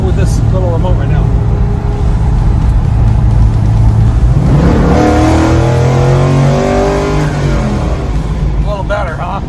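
A Chevelle V8 with its exhaust cutout opened by remote rumbles loudly up close, swelling into a rising rev midway before settling back to a deep idle, with a person talking over it.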